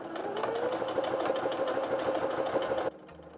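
Sewing machine steadily stitching an invisible zipper into fabric at a 1 cm seam, a continuous close mechanical whir with a fast needle rhythm for about three seconds before stopping abruptly.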